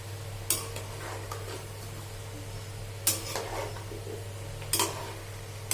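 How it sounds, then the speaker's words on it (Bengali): Spiced vegetable sabji being turned in a pan, a low steady background hiss broken by three distinct clinks and scrapes of a spoon against metal, spaced a couple of seconds apart, with no one talking. "আর সুন্দর করে নেড়ে চেড়ে নেব।"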